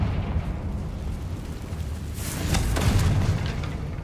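A Confringo blasting spell goes off in the game Hogwarts Legacy as a deep, rumbling explosion that swells over a noisy battle bed, with a burst of crackling debris trailing after the boom.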